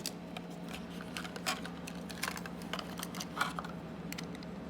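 Brand-new Choro Q NHK Relay Truck, a 2003 Taiwan-made toy, being unpacked: scattered light plastic clicks and crinkles come in uneven bursts, close and quiet.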